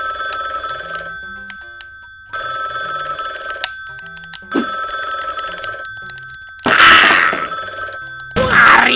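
A telephone rings in repeated long bursts with short gaps, loud and close; near the end a burst of noisy rustle or clatter cuts in.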